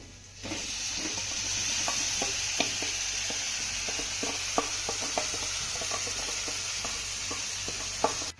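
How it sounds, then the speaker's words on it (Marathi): Yogurt-marinated onions hit hot tempering oil over a high flame with a sustained hiss, while a spoon stirs and scrapes the pan in repeated clicks and knocks; no one talks. "आपले कांदे देखील दह्यामध्ये चांगले मुरलेले आहेत आपण आता हे फोडणीमध्ये घालूया"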